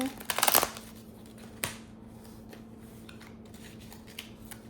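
Tarot cards are riffled and shuffled in a crisp burst of rapid flutter, followed by a single sharp snap and quieter flicks and taps as cards are drawn and laid down.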